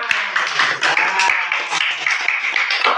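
A classroom of students claps hands in dense, continuous applause during an Indonesian school lesson, the claps close and loud throughout.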